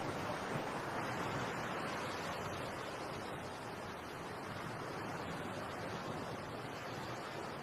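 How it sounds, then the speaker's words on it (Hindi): Sea waves wash onto a shore in a steady, continuous rolling surge with wind noise mixed in, moderately loud and unbroken with no talking. "अपनी आंखें बंद कर समुंदर की लहरों को सुनकर मुझे शांति मिलती है।"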